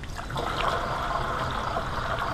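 Steady trickling water pours into a container of urine being mixed as organic fertilizer spray, a continuous splashing flow from start to finish with no voices.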